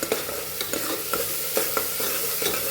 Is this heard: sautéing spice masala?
yes